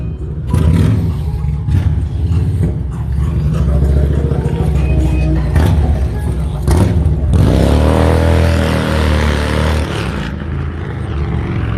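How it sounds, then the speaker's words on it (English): A motorcycle revs hard and roars past close by, its engine climbing in pitch and swelling to a loud peak before the drone shifts and fades, with a few sharp bursts along the way. "Oh, somebody's got a motorcycle"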